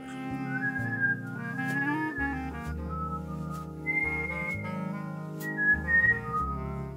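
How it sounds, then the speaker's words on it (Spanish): A person whistles a melodic tune, clear and close, with sliding pitches and short pauses between phrases over a soft instrumental backing. "yo siempre voy canturreando, siempre voy silbando"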